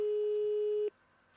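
A telephone busy signal: a steady, loud single electronic tone that holds for under a second and then cuts off abruptly, leaving faint background noise and no voices.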